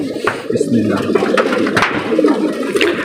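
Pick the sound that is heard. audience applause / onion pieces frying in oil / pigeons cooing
pigeons cooing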